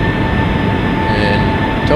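Jet engines of a Boeing 757 in a flight simulator spool up as throttles advance, a loud, steady roar with a sustained whining tone running unbroken throughout.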